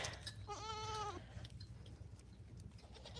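A Nigerian dwarf goat gives a single clear, close bleat lasting under a second, then fades into a low steady background hum with no talking.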